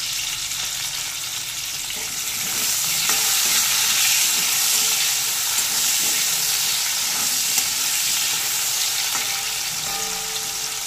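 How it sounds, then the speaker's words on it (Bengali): Diced potatoes frying in oil left from fried fish, with a steady loud sizzle and hiss throughout, broken by faint stirring scrapes, close by. "ওই তেলে ডুমো করে কেটে রাখা আলুগুলোকে দিয়ে একটু ভেজে নেব"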